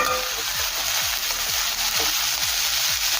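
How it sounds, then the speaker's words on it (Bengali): Cabbage and mixed vegetables fry in a pan for vegetable chowmein, giving a loud, steady close sizzle with soft scraping and stirring knocks throughout. "বাঁধাকপি সবজির সাথে একটু ভেজে নেব।"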